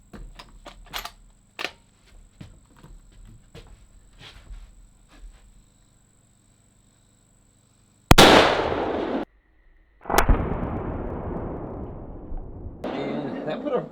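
A 6.5 Creedmoor rifle is fired into concrete blocks: two loud, sharp reports with long, fading echoes follow a stretch of quiet clicks and handling noises.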